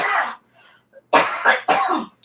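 A few close, harsh coughs: one burst, a pause, then two more coughs in quick succession.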